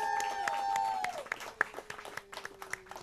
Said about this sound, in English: Big round of applause for La Fiebre in the house.